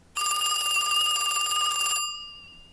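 A telephone rings in the Nightmare Inn video game: one continuous bright electronic bell ring lasting about two seconds, loud and close, then cutting off with a short fading tail.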